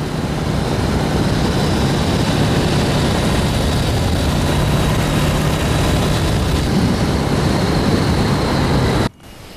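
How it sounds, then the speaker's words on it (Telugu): A World War II-era propeller airplane with failed brakes lands on a runway at a Northern Virginia airport, its loud engine drone roaring steadily and close before cutting off abruptly at the very end. "రన్వేపై విమానాన్ని ల్యాండ్ చేయడానికి పైలట్ అష్టకష్టాలు పడ్డాడు"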